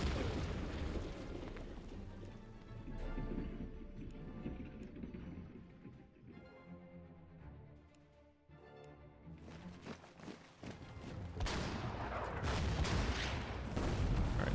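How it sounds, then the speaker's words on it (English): Artillery bombardment of a fort in the strategy game Order of Battle: Sandstorm, with dense, continuous booms and rumbling blasts that swell and dip in loudness before a heavier, sharper volley near the end. "I'm going to try and bombard it a little bit"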